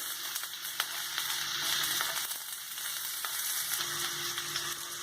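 Onions frying in oil with garam masala, cinnamon, cloves, cardamom and fennel: a bright, steady close sizzle with occasional stirring clicks and crackles.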